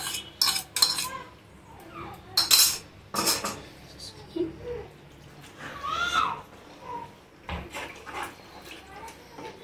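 White sauce pasta with processed cheese stirred in a pan: a spoon scrapes and clinks against the metal in irregular bursts, with soft wet mixing sounds between, close and moderately loud, no talking.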